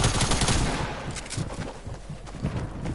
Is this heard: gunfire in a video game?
yes